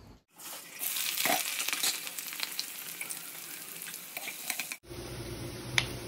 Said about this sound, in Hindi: ये अदरक मिर्ची का पेस्ट और कढ़ाई मैंने रख दी है इसमें भाजियों को फ्राई करेंगे